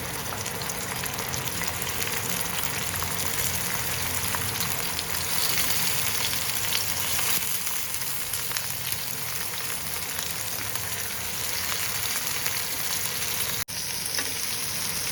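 Tomato slices sizzle steadily on a hot griddle, a loud continuous crackling hiss that barely changes, with a brief break near the end.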